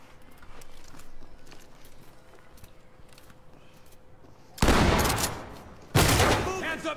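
Two loud, close gun blasts boom out seconds apart, shooting a lock during a video-game breach, after a stretch of low background noise.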